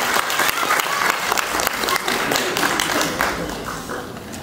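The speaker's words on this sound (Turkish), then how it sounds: "Efendim alkışların elleriniz dert görmesin." Audience applause at a Turkish poetry and performance event, dense steady clapping from a crowd that stays loud throughout and tapers slightly near the end.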